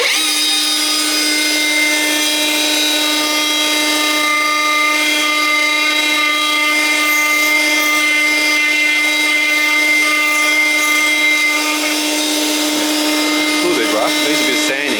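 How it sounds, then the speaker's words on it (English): A high-pitched wood router whines steadily at full speed, close and loud, rounding cut-out wooden toy wheels, holding a constant tone throughout with a slight shift near the end. "So this is a router. It has a cutter in there. It spins at very high speed,"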